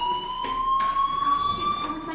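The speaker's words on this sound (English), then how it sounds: "do you hear that fire alarm? That means you should be outside." A steady electronic fire alarm rings continuously at a school in the video game Life is Strange, a constant high tone with harmonics sounding loud and unbroken throughout.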